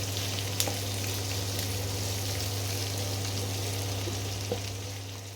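Three medium onions fry in a pan with a steady, gentle sizzle and crackle that runs evenly throughout. A few soft clicks of stirring are heard, with no talking.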